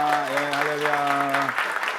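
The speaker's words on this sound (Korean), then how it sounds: "우리 그레이스 킴 자매님 잠깐 일어나 주시면 우리 박수로 환영해 감사하겠습니다" A Sunday morning church congregation claps to welcome a new woman member to the church orchestra. The clapping is loud and continuous, and a sustained voice rises over it for the first part before the clapping carries on alone.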